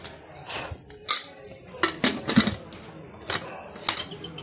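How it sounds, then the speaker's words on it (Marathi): A pressure cooker lid is fitted onto a cooker of khichdi, with a run of close metallic clanks, clicks and scrapes in quick irregular bursts. "आता हे झाकण लावून घेऊया."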